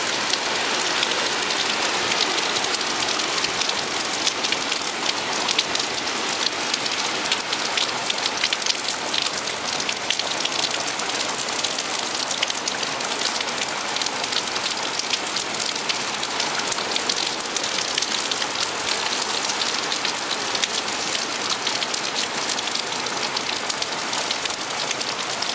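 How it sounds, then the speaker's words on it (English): Hurricane-driven heavy rain pours in a dense, unbroken roar of wind-whipped drops hitting surfaces, loud and constant throughout with no let-up, close by and with no voices. "whipping the rain, the bands of rain."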